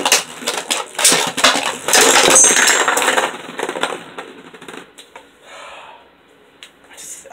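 Beyblade Burst tops, Legend Spryzen and Surge Xcalius, launched into a plastic stadium, rattling and clashing in quick, sharp metallic clicks that grow busy and loud, then thin into sparse taps and a fading whir.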